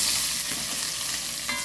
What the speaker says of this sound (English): So what she's going to do is stir in that first and let it fry up.